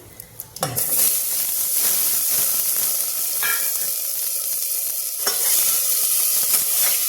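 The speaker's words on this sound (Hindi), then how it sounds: "इसी में आलू डाल देते हैं" Potatoes dropped into hot oil with whole spices such as cardamom and mace burst into a loud, steady sizzle after a brief clatter at the start, with a few stirring scrapes along the way and no voice.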